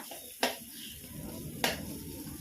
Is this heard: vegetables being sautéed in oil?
yes